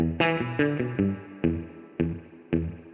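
An electric guitar runs through an Echoplex with only its echo, giving a slight slapback; distorted chords strike in a loose rhythm, each attack trailed by a faint repeat and decay, with no talking.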